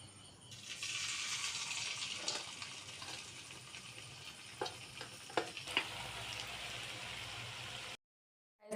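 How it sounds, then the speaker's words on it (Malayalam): Batter-coated cauliflower florets frying in a pan of hot oil, a close, even sizzle with occasional clinks and stirring taps, ending in sudden silence. "നമ്മൾ കോളിഫ്ലവർ പൊരിച്ച് കഴിഞ്ഞിട്ടുണ്ട്"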